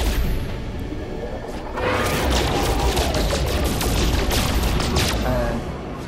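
Rapid bursts of gunfire from a pulse weapon in the space game No Man's Sky, loud and dense, with booming impacts and whooshes growing heavier partway through and continuing steadily, with no talk.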